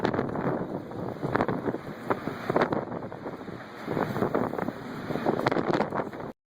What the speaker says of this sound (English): Look at that damn wind,